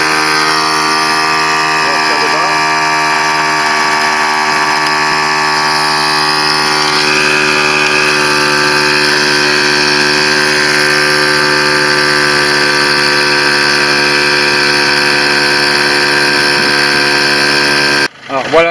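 Electric air pump inflating a car tyre, a loud steady droning hum with strong even harmonics running continuously, cutting off abruptly at the end.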